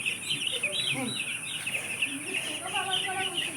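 Poultry chicks on a small farm peep steadily in a dense, continuous chorus while they receive eye-drop vaccines, with voices talking faintly underneath.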